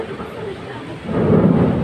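Low rumbling thunder from a storm in Dhaka, heard from a balcony, swells and rolls in the distance over steady rain and wind noise.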